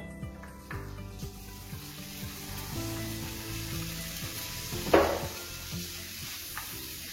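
Lardons sizzle and fry steadily in melted butter, with scattered stirring scrapes and a sharper clatter partway through; close and continuous, with no talking.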